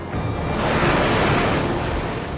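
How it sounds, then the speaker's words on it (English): Stormy seas off Cape Horn: a steady, loud roar of crashing ocean waves mixed with gale-force wind buffeting the microphone, continuous throughout with no voices. "The seas around Cape Horn are some of the most notorious in the world, pounded by gale-force winds and dominated by waves up to 30 meters high."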